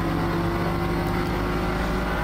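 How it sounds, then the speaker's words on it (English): A straight-six engine car in the racing game Forza Motorsport drones steadily and loudly, a continuous, even engine roar with no breaks, alone with no voices. "kind of M3 kind of engine noise, or the straight six engine noise."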